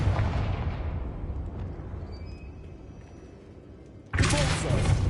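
Confringo blasting spell in Hogwarts Legacy, a rumbling explosion that starts loud and decays over several seconds, then a second abrupt, forceful blast bursts in near the end and keeps roaring.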